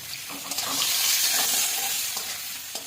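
Bay leaf and potatoes with turmeric fry in hot oil, a loud, steady sizzle close by with scraping stirring strokes running through it.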